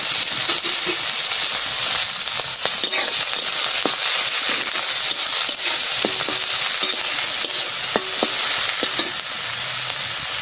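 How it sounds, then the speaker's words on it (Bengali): Shrimp frying in hot mustard oil gives a steady, loud sizzle throughout, with scattered sharp pops and spatters and occasional utensil scrapes close by; no voices. "সরষের তেলও গরম হয়ে গেছে, আমি চিংড়ি মাছ দিয়ে দিচ্ছি।"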